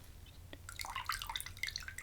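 Water drips and splashes softly and close by during a face-washing skincare routine with a washcloth, a scatter of small wet patters over a quiet background.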